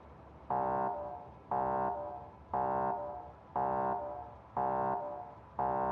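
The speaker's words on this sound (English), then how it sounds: "that's the alarm that the U-238 storage is full" A Factorio storage-full alarm for U-238 sounds in a steady repeating pattern: six loud, even buzzing tones, each about half a second long, separated by short gaps, with no voices.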